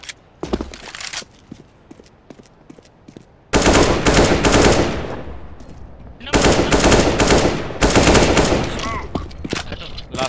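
Gunfire in Counter-Strike or PUBG: bursts of rapid automatic fire, loud and close, starting and stopping in long stretches, with scattered single shots and faint game sounds between bursts.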